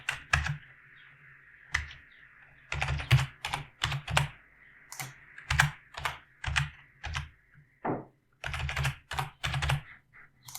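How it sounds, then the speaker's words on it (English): Password being typed on a computer keyboard, a run of crisp clicking keystrokes in quick clusters with short pauses between them, close and clear, with no voices. "now I can just enter my password here"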